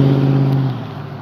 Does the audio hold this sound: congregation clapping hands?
no